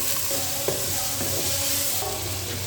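Vegetables with turmeric, spice and red chili being stirred in a pan, a close, steady sizzle with clattering stir strokes throughout.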